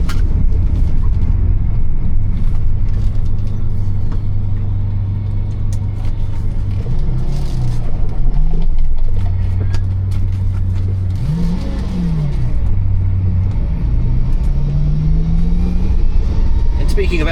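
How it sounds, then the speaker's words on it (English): A Bugatti EB110 Supersport gives a gentle burst of acceleration on a cobbled road, a steady low engine drone rising in pitch around the middle, with tyre rumble underneath and someone talking over it. "might just quietly give it a little bit of acceleration on the way back here"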